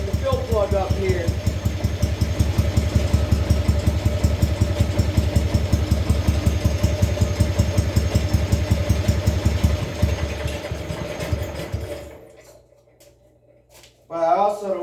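A low engine idles with a steady, rapid knocking rhythm for about ten seconds, then stops and falls quiet before a brief restart-like burst near the end; speech is present in the clip.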